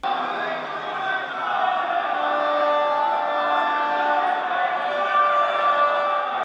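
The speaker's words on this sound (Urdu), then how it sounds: "بجٹ اجلاس کے دوران اپوزیشن اور حکومتی اراکین نے ایک دوسرے کے خلاف شدید نعرے بازی کی۔" Opposition and government members shout slogans against each other during a budget session in a legislative assembly, a loud, continuous wall of massed voices chanting without a break.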